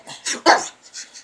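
A dog gives a few quick, close barks and yips in a short burst, separate bursts with brief gaps between them.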